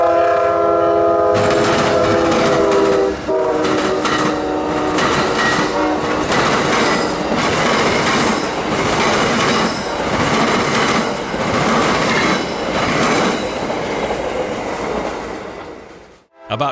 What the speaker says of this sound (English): The action kept up with the Amtrak Silver Star, train 91, running 2 hours late.